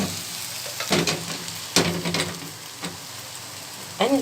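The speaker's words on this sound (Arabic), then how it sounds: "ونسيبهم على النار لحد ما البصلة تدبل والفراخ تستوي" Chicken pieces and onion frying together in a pan, a continuous close sizzle broken by a few louder scraping stirs and spatters.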